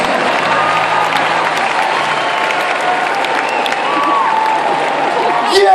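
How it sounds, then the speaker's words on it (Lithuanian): A studio audience on a Lithuanian game show breaks into stormy, sustained applause, a dense wash of clapping at steady loudness throughout, with voices murmuring underneath and a brief swell at the end. "Audringi plojimai"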